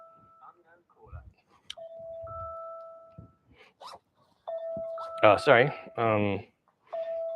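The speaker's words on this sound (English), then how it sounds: "That's my phone." A mobile phone ringing during a university lecture on quantum mechanics and periodic trends: a repeating electronic melody in bursts, with brief speech around it.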